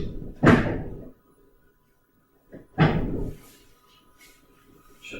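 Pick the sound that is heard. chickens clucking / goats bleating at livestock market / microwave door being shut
microwave door being shut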